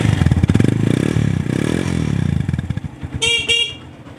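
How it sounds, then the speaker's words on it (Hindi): A Suzuki GS150 motorcycle's self-starter cranks with rapid mechanical chugging, then the engine fires and runs briefly, followed by a short horn beep close by. "सुजुकी GS 150 हुई स्टार्ट"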